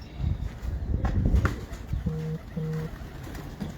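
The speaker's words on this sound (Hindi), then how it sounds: "कामरान जी, ये बहुत अच्छे कबूतर देखिए आपने जो पकड़ के देखा है" Two soft, low pigeon coos in quick succession, close by, after some shuffling and rustling noises.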